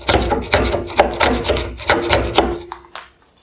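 Hand carving of dense, hard Sonowood for a Canna guitar: about eight rhythmic rasping strokes of a blade or file against the wood, close and fairly loud, tapering off at the end.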